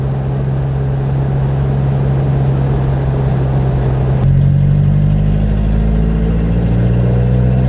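A 1940 Rosengart LR539 Supertraction with a 2-liter engine drives along, its steady mid-pitched engine hum heard from inside, with a shift midway as the engine note drops and changes.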